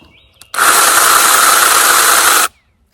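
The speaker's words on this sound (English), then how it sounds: "little miniature 6-inch chainsaws, battery activated" A battery-powered miniature 6-inch chainsaw runs close up for about two seconds, a loud steady high-pitched buzz that starts and stops abruptly.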